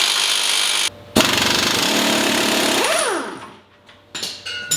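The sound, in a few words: power tool removing pinion nut from Dana 30 axle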